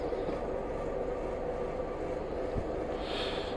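A Class 101 diesel multiple unit runs in the Train Simulator Classic game on the Glasgow Queen Street to Edinburgh route, giving a steady low engine rumble and rolling rail noise that stays constant and moderately loud.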